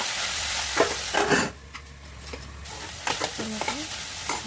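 Amaranth leaves with fenugreek greens being stirred in a hot pan: scraping spatula strokes over a soft sizzle of frying, in irregular bursts close by.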